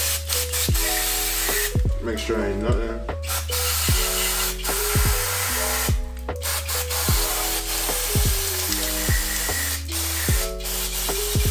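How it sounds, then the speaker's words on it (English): Cleaner hisses in sustained spray bursts into the carburetor of a Yamaha Riva Razz scooter, loud and close. Someone talks briefly and music plays steadily in the background. "We're gonna spray this carburetor real quick,"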